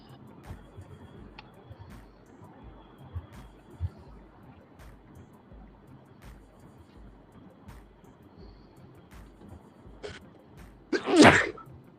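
A man sneezes repeatedly, set off by allergies and wind, with a few small sneezes spaced through a quiet stretch and a loud, close sneeze near the end, while faint background noise continues.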